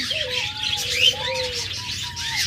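Pet birds for sale, lovebirds, budgerigars and cockatiels, chirping and calling close by in a dense overlapping chatter, with several short whistled tones rising above the steady twittering.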